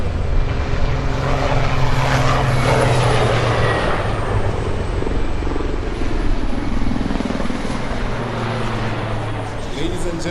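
Rooivalk combat support helicopters flying over an Armed Forces Day 2019 capability demonstration, a loud sustained rotor and engine roar close overhead, with people talking at points.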